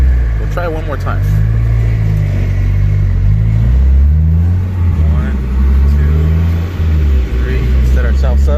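Car engine held around 3,000 RPM in heavy traffic, a loud steady low rumble with slight rises in pitch, close and continuous, with traffic noise around it.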